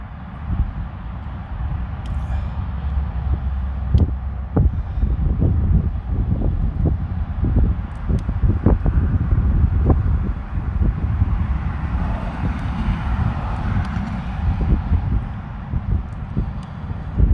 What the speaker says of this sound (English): You can hear how strong that wind is.